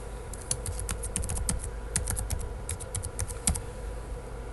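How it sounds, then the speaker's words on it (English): Rapid typing of a password on a keyboard, a quick irregular run of close, crisp key clicks over a faint background hum, with no talking. "So here we're typing in our password."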